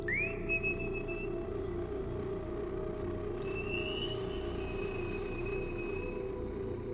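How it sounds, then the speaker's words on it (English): In a video game, a faint, thin whistle rises and holds, then after a pause a second, longer whistle answers from a distance down a long hallway over a low, steady ambient hum. "we whistle, and something whistles back"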